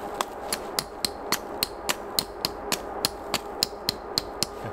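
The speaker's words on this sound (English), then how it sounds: "when you got a tent peg, anything's a hammer" Sharp metallic knocks repeat at a brisk, even pace, about three per second, as a camping hatchet strikes a tent peg nearby, outdoors in the snow.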